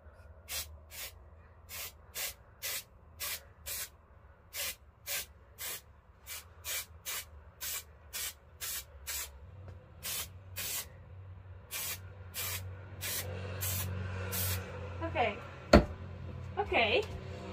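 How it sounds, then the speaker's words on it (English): Can of spray adhesive hissing in a series of short, regular bursts, then longer sprays inside a van being carpeted, fairly close, with some soft breathing and movement between bursts. "Oh, it sprays really cool. It sprays wide."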